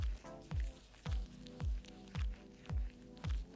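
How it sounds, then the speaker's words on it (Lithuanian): A foaming DOUGLAS Naturals face cleanser is massaged over skin in circular motions, making close, soft squelching strokes that repeat in an even rhythm about twice per second. "išsispauskite putų ir sukamaisiais judesiais plaukite odą"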